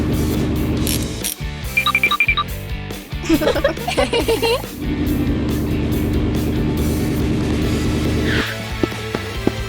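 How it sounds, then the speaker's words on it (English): Cartoonish car noises from an animated car that shakes and goes very slowly: clunks, rattles and squeaky ratcheting sounds over a rumbling engine, with pauses and a short boing-like accent near the end. "The car shakes, makes funny noises, and goes very, very slowly."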